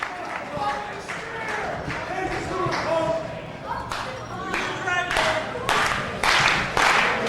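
Crowd at an IWA Mid-South pro wrestling match in 2004 claps and cheers for CM Punk and Bryan Danielson, with bursts of clapping rising and falling under steady crowd noise and commentary talk.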